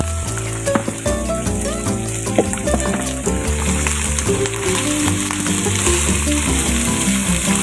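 Pork pieces sizzle loudly in a hot pan for Filipino menudo, a steady close crackling fry with occasional stirring scrapes and clinks, over soft background music.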